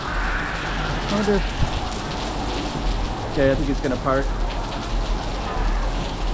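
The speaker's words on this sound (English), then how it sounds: "so that just poured down rain" Heavy rain pours down steadily in a constant loud hiss on a village in Zhuhai, China, with a person speaking briefly over it.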